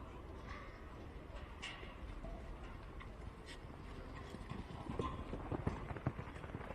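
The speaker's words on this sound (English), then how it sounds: "The horse is owned by Justin Vivas, and this horse is by One More Daddy." Horse hooves clip-clop on the ground at an outdoor campdraft event on Juandah Plains, a steady patter under open-air background noise that grows slightly busier toward the end.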